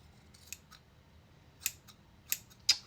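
Scissors snip hair during a home haircut, four or five sharp, crisp cuts spaced irregularly over a few seconds, close up against a quiet room.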